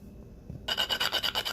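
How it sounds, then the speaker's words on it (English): Whole nutmeg is rasped against a grater for a cake bread loaf, a quick run of about eight rhythmic scraping strokes, close and crisp after a quiet moment. "I'm going to grate my nutmeg in."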